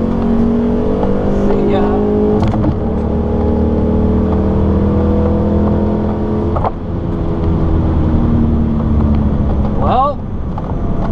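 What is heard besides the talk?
Chevrolet with new cam revving on racetrack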